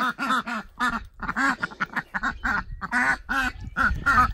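Several ducks quack repeatedly in a loud, close, rhythmic series of nasal calls, with brief gaps between each burst and no talking.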